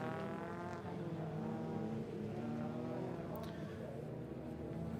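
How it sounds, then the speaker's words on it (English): Mazda MX-5 Cup race cars rolling onto the pre-grid at TT Circuit Assen, engines droning and revving at a moderate distance, with a commentator talking over them. "And so the cars already making their way onto that pre-grid."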